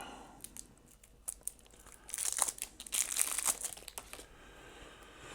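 Plastic wrap crinkling as a pack of Scoville board game cards is unwrapped, soft crackles building to a louder burst of crumpling and tearing close by, then fading.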